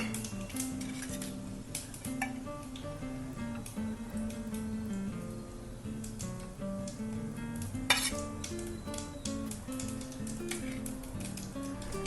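Cumin seeds sizzle softly in ghee for a tempering, with a quiet crackle under repeated clinks of a spoon against the pan and some faint tonal sound in the background.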